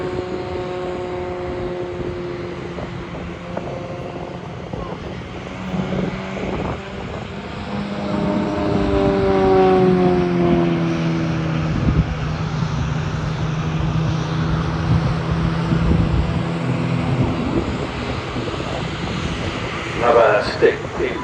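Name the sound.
aerobatic aircraft performing rolls and tumbling at an airshow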